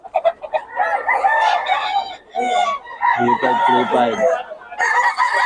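Roosters and chickens at a backyard poultry seller crow and cluck close by in overlapping bursts, loud and continuous, with someone briefly speaking among them.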